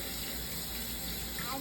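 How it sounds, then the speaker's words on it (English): Tap water runs steadily into a sink as almonds are rinsed, a short continuous splashing gush, fairly close, with no talking. "Now we rinse the almonds."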